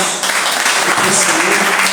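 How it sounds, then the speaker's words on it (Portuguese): A church congregation applauds at a Baptist service, dense, steady clapping filling the space from start to finish. "Salva de palmas para eles, irmãos."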